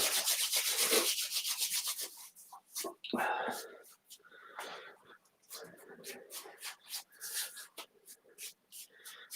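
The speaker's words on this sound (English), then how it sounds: "let's begin by rub your hands together" Two hands rub briskly together in a relaxation exercise, a close dry swishing friction in repeated back-and-forth strokes that breaks into short bursts, with soft speech in between.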